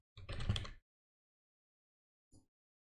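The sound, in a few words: typing on a computer keyboard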